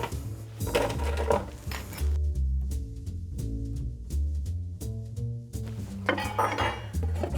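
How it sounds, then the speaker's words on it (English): Ice clinks and rattles into a rocks glass for a margarita, with hard, bright knocks of cubes against glass and a few softer clinks following, and no talking. "So what we're gonna do is grab a little bit of ice."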